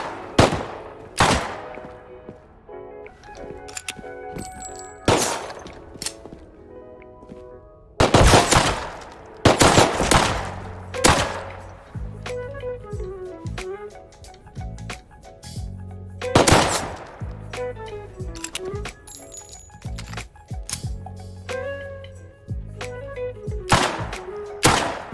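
Gunfire in Rust, sharp loud shots arriving in scattered bursts, some single and some in quick clusters, separated by quieter stretches of ambient game sound.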